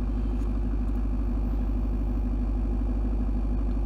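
A 1999–2012 Chevy Silverado pickup idles in neutral with a steady, close, low rumble and even rhythmic engine pulsing, unbroken for the whole stretch with no talk.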